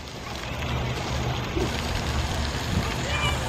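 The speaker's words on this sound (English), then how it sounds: "sprinkler that's pouring water into their pool" At a zoo's elephant enclosure, a sprinkler pours water into the elephants' pool, making a steady, rain-like hiss heard from some distance, with faint background voices.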